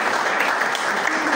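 Audience at a film screening bursts into applause, a dense, steady patter of many hands clapping that fills the whole short moment.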